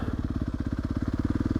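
A Yamaha YZ250F dirt bike engine runs steadily at a near, loud, low rumbling putter, its rapid even pulses holding a constant pace and firing a little harder toward the end.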